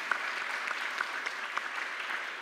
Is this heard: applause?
yes